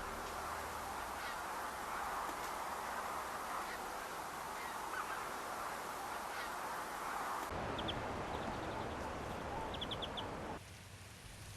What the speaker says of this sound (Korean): 주변에 가득한 새들의 소리와 움직임이 삭을 자극합니다.